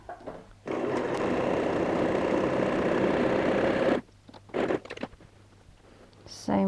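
A sewing machine runs a long straight stitch on a DIY laptop case, a fast steady whirring hum for about three seconds, then stops, followed by a couple of short bursts and quiet handling.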